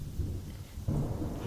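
Steady rain with rolling thunder in a stormy night scene from The Princess and the Pea fairy tale, a low rumble swelling partway through over continuous rainfall, no voices.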